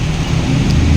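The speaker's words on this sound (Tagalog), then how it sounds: "Sobrang lakas ng ulan," Heavy rain pours steadily with a low rumble of thunder beneath it, a dense, loud wash of noise filling the short moment.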